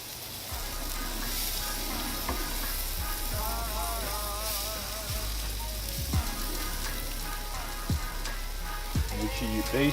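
St Louis cut pork ribs on a barbecue sizzle steadily as they are basted, a close, continuous crackle with occasional brush strokes and faint background music throughout.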